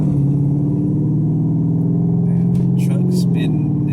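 A car fitted with JBA long tube headers idles with a loud, deep exhaust rumble. The drone holds steady throughout, with brief higher bursts of sound near the end.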